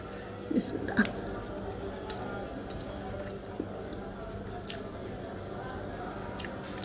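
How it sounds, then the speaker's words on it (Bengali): Someone eats plain Bogura-style mashed potato, aloo bhorta, up close, with soft wet squishing and mouth sounds over a constant room hum and a few faint clicks. "তো এখন খাচ্ছি আমি আলু ভর্তা"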